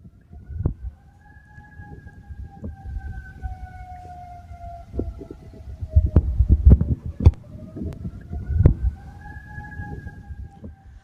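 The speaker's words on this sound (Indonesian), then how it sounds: "Suara sirene meraung di Doha saat rudal Iran menghantam Qatar" An air raid siren wails over Doha, Qatar during an Iranian missile strike, a faint distant rising and falling tone held across the scene, punctuated by thuds and booms up close.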